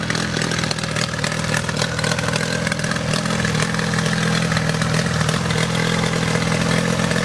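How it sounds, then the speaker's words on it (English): A Mariner 30 hp outboard boat motor idles loudly and steadily nearby, a continuous chugging drone with a faint rattle, and no voices. "Alright, so here's the motor running."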